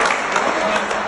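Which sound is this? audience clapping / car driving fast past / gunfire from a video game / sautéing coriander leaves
audience clapping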